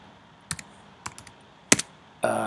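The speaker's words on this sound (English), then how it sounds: "I might just press N on my keyboard there" A few separate computer keyboard key presses, sharp close clicks spaced irregularly with quiet between them, ending in a brief clattery burst of keys.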